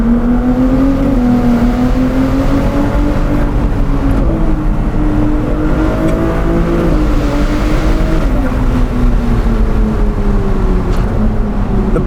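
A Novitec-tuned Ferrari 296 GTS supercar pulls hard under acceleration, its engine droning loud and close as the pitch climbs, briefly drops at gear changes, then rises again for the full stretch.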